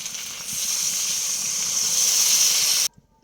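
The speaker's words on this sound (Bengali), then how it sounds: "আলুর দম কিন্তু একদম টকবক করে কিন্তু ফুটছে" Potato curry (aloo dum) boiling hard in a pot after water is added, a steady loud hiss of bubbling and steam, close and continuous before cutting off abruptly.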